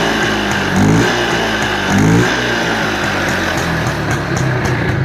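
A motorcycle engine idles nearby and twice gets a short throttle blip that rises in pitch, then drops back to a steady running tone.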